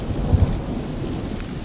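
Heavy rain pours steadily in a jungle setting, with low rumbles of thunder under the dense hiss. A short burst of rain and storm fills the whole stretch.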